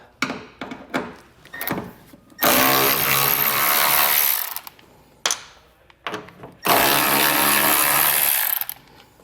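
Power tool driving out two 8mm screws holding a vehicle taillight, two long loud whirring bursts separated by a pause, preceded by several short clicks and handling knocks.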